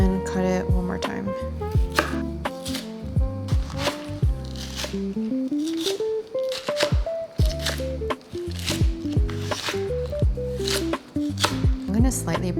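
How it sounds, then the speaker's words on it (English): Knife chopping vegetables on a cutting board while preparing Korean side dishes, steady rapid chops with strong tonal ringing hits under a musical backing, close and loud. "Cut it in half, and then cut it one more time."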